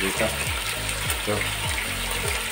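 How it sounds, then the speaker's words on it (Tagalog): Tilapia fries in a pan with a steady broad sizzle and crackle, while a few repeated low thumps and clatters from cookware or stirring sound underneath, close and continuous. "Yun na po tayo mag-prito."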